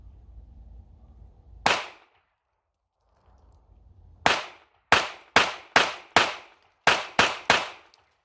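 Shots from a small pistol ring out loud and close, one single shot followed after a pause by a string of eight quick sharp cracks in an uneven rhythm, each with a short decaying tail.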